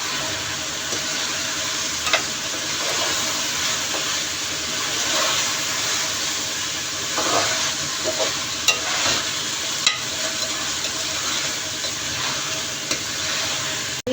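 Fried mutton for bhindi gosht is stirred in a hot, sizzling pan: a continuous hiss of frying with soft scraping and occasional clacks of the spoon, close and alone.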